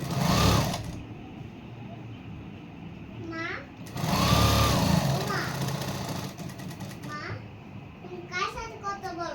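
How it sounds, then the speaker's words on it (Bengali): A sewing machine runs in bursts while stitching the front neckline onto a dress collar, its steady whirring near and loud, with short pauses between runs and a voice chattering in the background. "সামনের গলাটা এইভাবে আবার সেলাই দিয়ে দিব"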